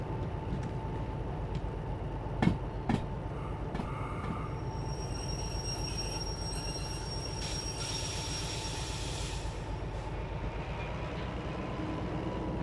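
DH4 diesel locomotive moving on rails in the Derail Valley train simulator game: a steady, dense rolling rumble with metallic squeals and a few sharp clanks, continuous throughout.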